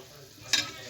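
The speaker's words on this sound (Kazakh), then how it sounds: "Қазанымыз қайнады." Water boils in a cauldron for shaule, a steady bubbling hiss with a single brief stir or clink midway, close and fairly quiet.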